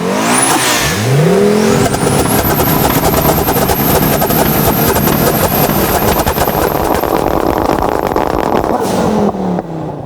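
A 2.2-liter twin-cam, four-valve turbocharged five-cylinder Audi engine roars loud and close, revving hard with a rising turbo whine, holding a high, raspy pitch before cutting off near the end.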